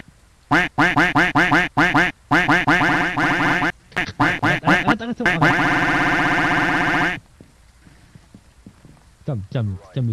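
Repeated duck quacks from the Phasmophobia video game, loud and rapid in bursts over the first seven seconds, then fading to quieter sounds with a voice speaking near the end.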